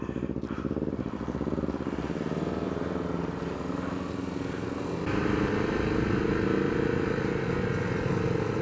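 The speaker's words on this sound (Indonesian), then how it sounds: "sekarang aku sedang mengendarai di all new CB150R yang special edition" Honda CB150R Special Edition motorcycle being ridden: a steady close engine note with revving that rises and thickens midway as the rider accelerates, with no voices.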